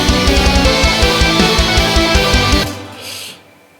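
Dense trance metal arrangement played entirely on virtual instruments in Logic Pro, loud and driving with steady pounding low beats, cutting off abruptly near the end into a brief fading tail, no voices.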